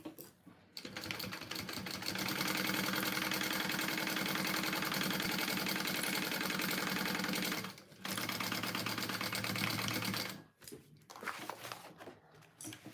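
A sewing machine stitches continuously while basting a tote bag, running in a long steady burst, pausing briefly, then resuming before stopping, with quiet handling afterward.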